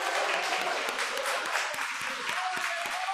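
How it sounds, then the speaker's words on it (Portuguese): Church congregation applauding during a Portuguese-language Christian worship service, a dense steady wash of clapping throughout with a few sharper individual claps standing out. "Uma salva de palmas bem forte para o nosso Deus."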